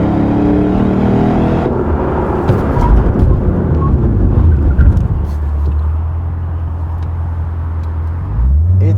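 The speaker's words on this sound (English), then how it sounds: "So why don't we check out the braking performance of this RCF. Okay, let's try the braking this time." A Lexus RC F brakes hard from 60 mph to a full stop: loud engine and road roar fades steadily as the car slows, settling into a low, steady idle hum near the end.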